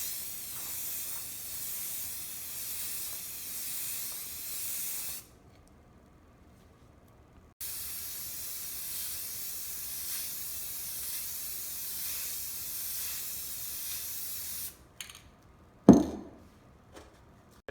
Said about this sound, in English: So I'll just spray a little bit on the outside.